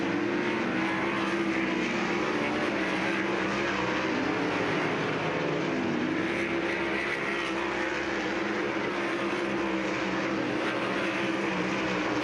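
Dirt track race cars at Lernerville Speedway racing under green flag, a loud continuous engine roar with shifting pitch as several cars run together, no pauses throughout.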